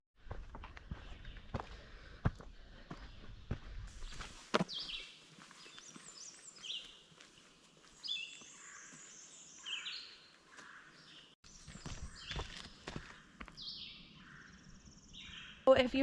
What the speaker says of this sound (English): You can just hear the bird song in the morning.